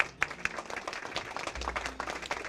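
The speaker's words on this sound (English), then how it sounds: "Please give them a round of applause" Audience applause at a ribbon cutting ceremony for an art house, with scattered clapping from a modest crowd, fairly distant and thin, continuing steadily throughout.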